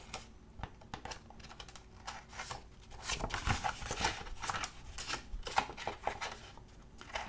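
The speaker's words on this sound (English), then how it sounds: "Let me cut this part off and see then what I need to do on the other side." Scissors cut through planner page paper in quiet, close, repeated snips and paper rustles that grow denser and louder partway through, with no talking.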